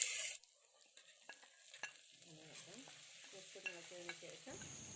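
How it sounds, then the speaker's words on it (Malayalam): Onions with chilli powder are stirred in a pan, with a quiet sizzle under soft scraping and clicking from the utensil, close and fairly faint. "മുളക് പൊടിയൊക്കെ ഇട്ട് നന്നായിട്ടൊന്ന് ഇളക്കി"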